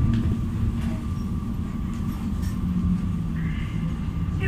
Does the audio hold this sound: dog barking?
no